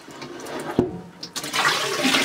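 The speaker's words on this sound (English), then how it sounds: "I'm just wiping it out with this metal thing." A cast iron pan is scrubbed with water and a metal scrubber. Soft wet scraping is broken by a brief knock, then becomes a louder, steady watery rush of rubbing and splashing up close.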